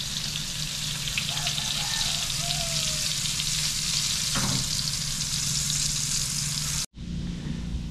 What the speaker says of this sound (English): Here we go, we're frying the fish.